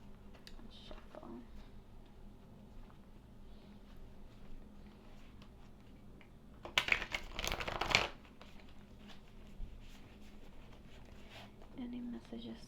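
Tarot cards being shuffled, a brief burst of loud riffling in the middle of otherwise quiet handling, with a person speaking softly around it.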